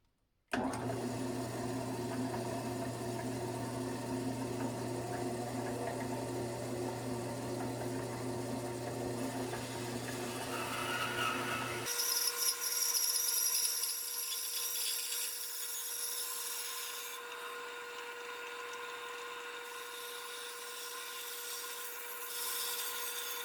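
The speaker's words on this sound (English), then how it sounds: "I'm going to do that by starting on the bandsaw." A bandsaw cuts a wooden blank for a canoe paddle, running steadily and loudly for about twelve seconds with a low motor hum, then shifting to a brighter, rougher rasp as the blade works through the wood.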